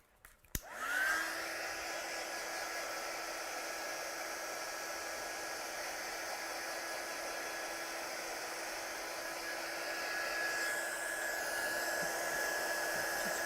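A hair dryer starts with a click, spins up, and blows steadily at close range to dry watercolour paint. The tone stays level with a constant airy roar, and the pitch shifts slightly near the end.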